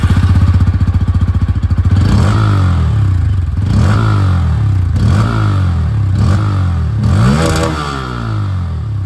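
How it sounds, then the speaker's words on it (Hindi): Bajaj Pulsar N160 with its underbelly exhaust, heard close and loud: a rapid idle thump that breaks into several throttle blips, each rev rising and falling in pitch, with a gritty, rattly exhaust note throughout. "अगर आप लोग यहाँ पर N160 में आ रहे हैं तो यहाँ पर आप लोगों को जो अंडरव्हील एग्जॉस्ट है वो मिलती है।"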